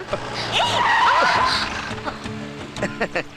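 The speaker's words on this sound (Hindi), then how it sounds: "कुछ करने के लिए ही तुमने गाड़ी में ब्रेक लगाए होंगे" A car braking hard with tires skidding and squealing in an action movie scene, a loud wavering screech up close followed by scattered clunks and rattles as the skid ends.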